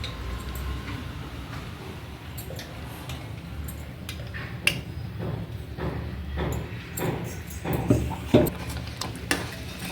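Ground chana dal mixture stirred in a pan for an evening snack: soft scraping and light metallic taps of a spoon against the pan, irregular and close, over a low background hum.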